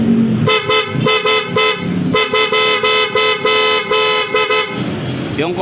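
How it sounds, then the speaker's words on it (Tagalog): A PIAA loud horn fitted to a Honda ADV160 scooter blares in a string of short, loud honks with a few brief gaps, followed by a longer sustained blast, all close by. "Tapos pag nilagay natin siya sa loud horn, sige."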